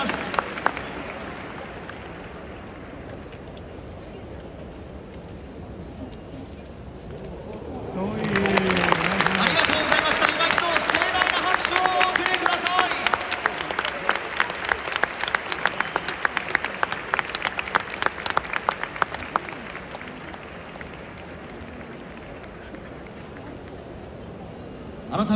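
A large stadium crowd at Tokyo Dome claps for a ceremonial first pitch. After quiet murmur, the applause swells into a loud, sustained roar and then thins into scattered claps.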